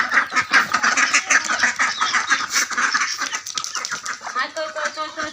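A farm flock of ducks and chickens honks, quacks and clucks in a dense, continuous chorus close by, while someone talks over the birds.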